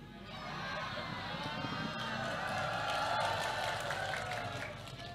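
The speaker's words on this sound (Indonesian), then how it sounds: "Ngapa tepuk tangan, Po?" An audience claps during an Indonesian Islamic sermon, a steady, dense patter of applause mixed with crowd murmur, moderately distant, swelling slightly in the middle before easing off.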